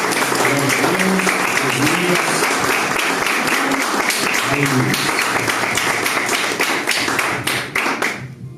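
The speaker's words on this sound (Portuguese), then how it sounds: "Vamos aplaudir ao Senhor para poder abençoar também." A church congregation at a Sunday service applauds, dense sustained clapping from many hands, loud and close, with voices mixed in and a tapering finish.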